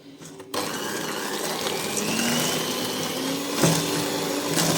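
Electric hand mixer whirring steadily as it beats sour cream for a homemade pastry dough, a continuous loud motor drone after a brief quieter start, with no talking.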